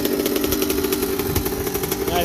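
A 1981 Yamaha YZ80H barn-find motorcycle engine runs close by with a loud, buzzy two-stroke drone and a steady rapid pulse, and a voice talks over it.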